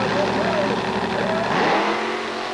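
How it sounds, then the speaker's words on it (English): The Grave Digger monster truck at a 1993 USHRA race in Pueblo revs its engine loud and close for takeoff, a sustained rising and falling roar that dips briefly near the end. "Let's go aboard the Gravedigger for a ride with Dennis Anderson."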